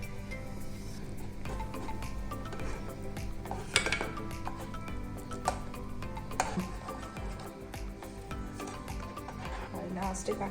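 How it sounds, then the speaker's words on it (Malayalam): A spoon stirs gulab jamun ingredients in a pan, giving quiet, close scraping with scattered clinks and taps of metal over a soft continuous background. "ഇത് നല്ലോണം കട്ട കെട്ടാണ്ട് നല്ലോണം മിക്സ് ചെയ്ത് കൊടുക്കാം."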